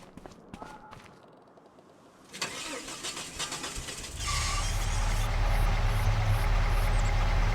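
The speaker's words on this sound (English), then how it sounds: "truck sounds like it could use a tune-up also." A pickup truck engine in need of a tune-up cranks and catches, then settles into a steady, loud idle close by, with no talk over it.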